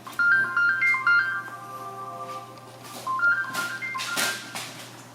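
A melodic phone ringtone plays a repeating electronic tune, fairly close, with a few knocks and rustling handling noises toward the end.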